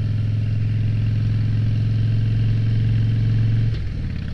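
Motorcycle engine rumbling steadily and loudly while riding through corners on a green mountain road outside Denver, Colorado, a deep continuous drone that briefly dips near the end.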